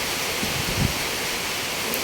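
Evening rain falls in Roxas, Isabela as a steady, even hiss that continues unbroken for the whole short stretch, with no voices.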